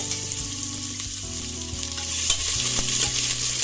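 Chili garlic paste hits hot oil in a pot, a loud close sizzle and spatter that swells partway through, with a faint background hum and no talking.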